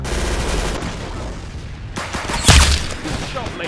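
Gunfire from Roblox Arsenal fills the stretch, a dense run of rapid digital shots with a sharper, louder burst around the middle and faint in-game voice chat mixed underneath.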